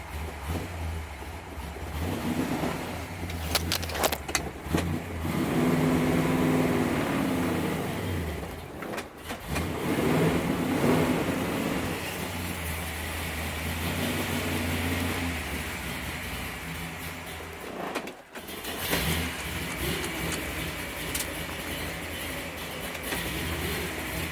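An engine starting up and settling toward a rough near-idle, a continuous low rumbling drone with uneven surges and two brief dips, steady and fairly close with no talking.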